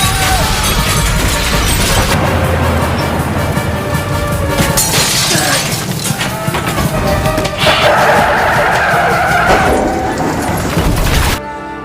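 An out-of-control bus skids and smashes into everything in its path in a police-versus-gamers action film, a loud, continuous din of crashing, scraping metal and shattering debris that cuts off abruptly at the end.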